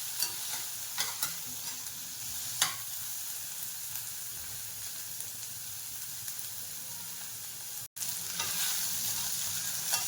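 Vegetables sauté in a pan for white sauce pasta, giving a steady, close sizzling hiss broken by a few sharp stirring scrapes and a brief dropout near the end.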